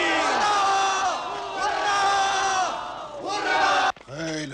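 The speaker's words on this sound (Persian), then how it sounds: "بازی تمومه. هورا بکشید." A crowd shouts hooray together at the end of a game, a loud sustained mass of voices that breaks off abruptly near the end before a fresh burst of shouting.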